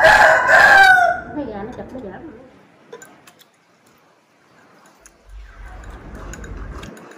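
A rooster crows loudly and close at the start, one long strained call, then fades into quieter farmyard background with scattered small knocks and a low rumble later.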